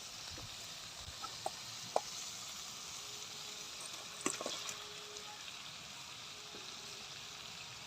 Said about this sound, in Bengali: মাছের মাথাটা দিয়ে দিলাম, এবার আমি আলুগুলো দিয়ে ভালো করে মিশিয়ে নেব।